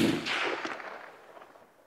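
A single loud rifle shot cracks sharply outdoors and then rolls away into a fading echo tail lasting nearly two seconds.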